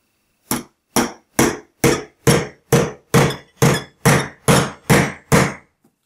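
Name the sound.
hammer tapping on a Banebot motor part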